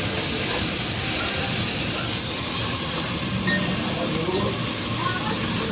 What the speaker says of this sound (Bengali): এই আদা রসুনে এটা ভালো করে ভাজা মতো হবে